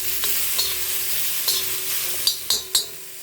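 Tomato chutney roasting in a pan, with a steady sizzle and several sharp scrapes and clacks of the stirring spoon against the pan, clustered toward the end.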